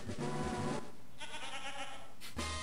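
A goat-like Pokémon cry from the Pokemon Clover video game plays as a few short electronic bleats with brief pauses between them, clear and alone.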